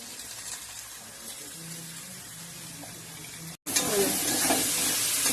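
Spice paste of ground cumin and black pepper fries in a pan, giving a faint, steady sizzle that cuts out briefly and then returns louder with stirring noises.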